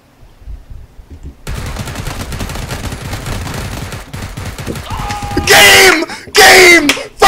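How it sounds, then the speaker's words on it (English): Sustained automatic gunfire from a video game rattles loudly and continuously for several seconds, followed by sharp bright bursts near the end; no talking. "it wouldn't let me stop shooting because we got first place and it wouldn't let me stop"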